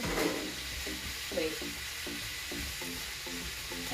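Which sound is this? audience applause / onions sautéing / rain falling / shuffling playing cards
onions sautéing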